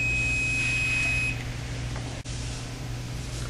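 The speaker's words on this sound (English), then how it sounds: "that tone indicates we've got good continuity, so we have a good splice" A continuity tester sounding a steady electronic tone on a spliced wire during a duct hunter cable repair, the beep holding for just over a second and then stopping into quiet room noise.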